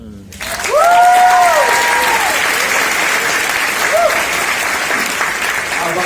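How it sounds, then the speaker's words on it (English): Audience at an LA Asian Pacific film festival Q&A breaks into sustained applause that swells quickly and holds steady, with a voice briefly speaking over it near the start. "another round of applause for Diane and the entire faculty crew up here"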